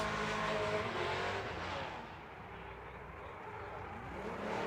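Mobile 1 Chevrolet Camaro drift car on Yokohama tires at a Formula Drift night round in Las Vegas, its engine a loud, steady roar that dips slightly midway and swells again, with no talk over it.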